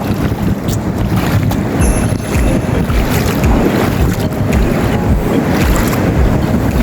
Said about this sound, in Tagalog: Kasi nga malakas ang alon.